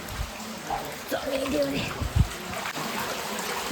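Spring water trickles and flows steadily outdoors at the Suparshwa cave temple near Kamalashile, with a few soft voices and faint bumps mixed in.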